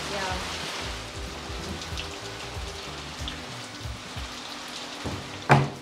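Steady patter of rain falling throughout, with faint voices and musical tones underneath and a sharp knock near the end.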